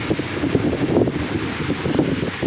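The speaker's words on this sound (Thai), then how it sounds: "ช่วงนี้ลมแรงมากนะครับ คลื่นลมแรงมากนะครับ" Strong wind by the seashore buffets the microphone in a steady, gusty roar, with a faint wash of sea beneath and no voices.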